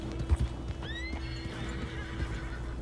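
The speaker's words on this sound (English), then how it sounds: "Que bonito aquele cavalo branco e preto" A black-and-white horse in the video game Red Dead Redemption 2 gives a clear rising whinny, with soft hoof clops and game ambience beneath; no talking.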